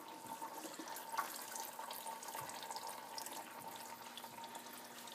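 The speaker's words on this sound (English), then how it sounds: "I have water flowing in it now, you can hear it." Water trickles steadily through an aquaponic grow stand fitted with net pots under fluorescent lights, a constant close splashing flow with no talk.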